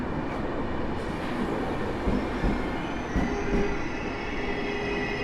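An Intercity express hauled by an EU200 electric locomotive at Sosnowiec Główny station, passing with a continuous loud rumble of wheels and carriages, faint squealing and a few rhythmic clunks over rail joints.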